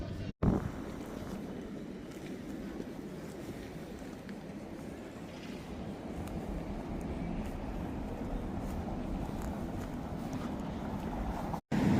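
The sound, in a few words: wind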